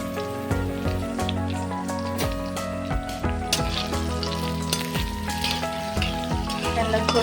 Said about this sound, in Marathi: इथे कढीपत्ता ॲड केलेला आहे.